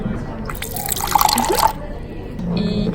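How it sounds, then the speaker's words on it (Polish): Jalab, a date-based drink, is poured into a glass, giving a brief trickling, splashing burst of liquid in the middle over a quiet room, with faint background sounds before and after. "Jak naleję sobie trochę tego napoju,"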